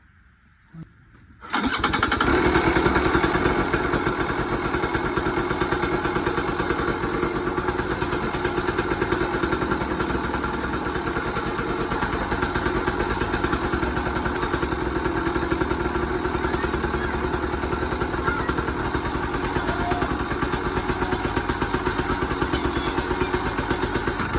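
After a brief quiet moment a KTM 300 two-stroke dirt bike engine with a new crank seal fires up and keeps running loudly and steadily, with a raspy, rattling buzz.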